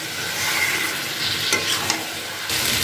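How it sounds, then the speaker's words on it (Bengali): Jackfruit, potato and prawns are stir-fried with spices in a pan, giving a loud, continuous sizzle with scraping stirs over a few seconds. "সমস্ত মশলার সঙ্গে এটাকে ভালো করে মিশিয়ে কষিয়ে নিচ্ছি আবার কিছুক্ষণ।"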